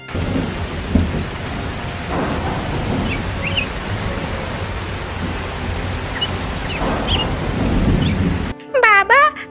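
Heavy rain and a rolling thunderstorm in a village scene of a bird cartoon hiss steadily with low rumbles of thunder, then cut off abruptly into a short burst of music.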